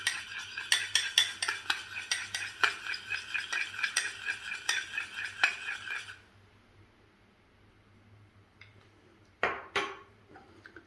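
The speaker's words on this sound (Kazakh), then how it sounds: "Екеуін жақсылап араластырамын." A spoon whisks egg yolk and milk together in a bowl, fast rhythmic clinking and scraping for about six seconds, then quiet with one brief clatter near the end.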